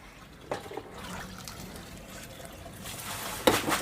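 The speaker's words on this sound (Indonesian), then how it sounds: "kita cuci. Cucinya itu adalah diguyur ya." Water is poured over boiled seblak bones to rinse them, a soft trickling splash that builds toward the end with a brief louder gush near the close and no talk.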